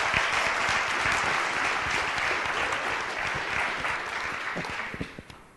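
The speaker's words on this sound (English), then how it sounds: "Let's give Shannon another round of applause" A room of attendees at a motivational talk on building connections gives sustained applause, a thick wash of claps that holds steady and then thins out, with a few last individual claps near the end.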